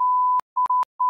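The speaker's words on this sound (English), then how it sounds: "you're gonna have a long beep sound in 3, 2, 1" A long steady censor beep at a single pitch, loud and continuous for a moment, then chopped into short bursts with gaps.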